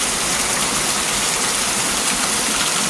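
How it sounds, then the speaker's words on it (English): Steady outdoor rain falling hard around a garden and a neighbor's house during a thunderstorm, a loud, even, unbroken hiss of water close by. "Neighbor house is raining real good"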